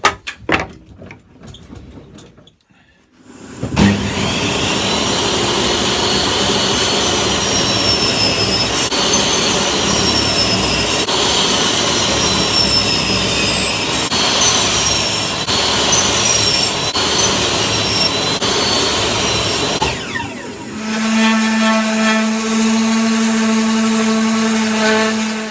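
A table saw running a homemade cross-cut sled cuts through wood pieces, a loud sustained whining roar with shifting screeching tones as blades bite, after a few quiet shuffles, then winding down to a lingering hum.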